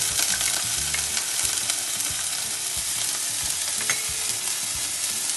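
Chopped onion, ginger paste and green chili sauté in a pan with a loud, continuous sizzle and frying hiss, while faint stirring clinks and scrapes sound throughout.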